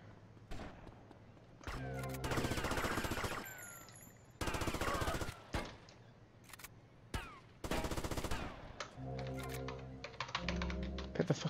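Bursts of automatic gunfire from Grand Theft Auto: Vice City, loud rapid rattling volleys in several separate stretches with brief gaps, alone without talk.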